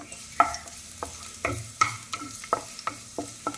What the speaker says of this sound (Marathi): मटकी भाजून घेतली आता याच्यामध्ये पहिल्यांदा लसूण टाकून त्याला चांगलं हे करायचं भाजून घ्यायचं